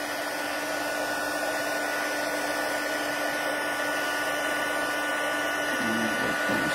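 A heat gun blows continuously to melt embossing powder on a handmade greeting card, a steady close whooshing drone with a faint tonal hum throughout.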